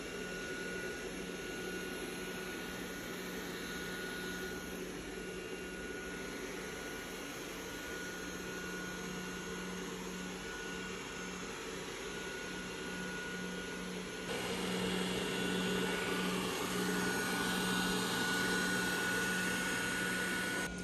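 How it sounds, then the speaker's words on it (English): A Dreame robot vacuum runs on a thick wool rug, giving a steady close whirring whine with a constant tonal hum, growing slightly louder and busier toward the end, no talking. "I'm currently testing out the Robo Vacuum and I'm running it on my rug to see if it's working"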